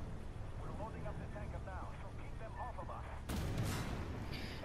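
A tank cannon fires in the PS4 game Armored Warfare: a sudden loud, booming blast cuts in late after a stretch of low engine rumble, with a person talking over it earlier.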